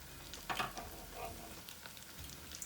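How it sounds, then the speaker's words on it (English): Steady crackling sizzle of pakoda fritters frying in hot oil, with occasional louder bubbling bursts, heard close up and continuous throughout. "once I am done with the frying, I will show you"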